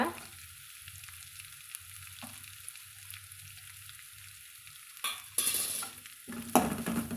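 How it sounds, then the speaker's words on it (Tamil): Mudakathan keerai greens are sautéed in a pan, with a soft, low sizzle and stirring sounds. Near the end comes a louder burst of frying hiss and scraping. "இந்த கீரையுமே நம்ம இதில் சேர்த்துக்கலாங்க சேர்த்து வதக்கி விட்டுறலாங்க"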